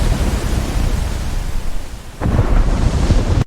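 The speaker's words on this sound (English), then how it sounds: "Europe experiences stronger storms." A strong thunderstorm roars as a loud, continuous broadband rumble, with a fresh heavy burst of thunder or downpour crashing in about two-thirds of the way through.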